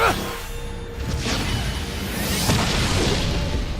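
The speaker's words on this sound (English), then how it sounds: "Big explosion." A big fire-spell explosion (Firaga tier) in the World of Final Fantasy video game, a broad loud burst with swooshing tails over a sustained roar lasting several seconds, with game music beneath.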